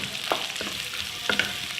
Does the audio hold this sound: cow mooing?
no